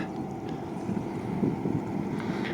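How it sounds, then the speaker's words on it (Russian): A boat approaching on a river at the Yakutsk river port, heard as a low engine rumble with wind buffeting the microphone, moderately loud and steady, with no talk. "А вот оттуда, смотрите, какая-то лодка приплывает."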